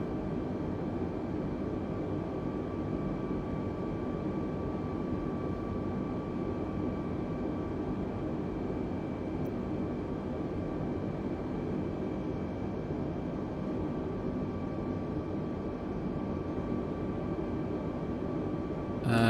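Steady, even cabin hum of an Airbus A320neo airliner in cruise in Microsoft Flight Simulator, a constant broadband engine and airflow drone with faint tonal whine running unchanged throughout, with no voices.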